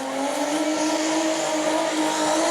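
A sustained, loud roar of a revving car engine during a burnout contest in New Smyrna, with steady high-pitched tire squeal, continuous throughout without a break.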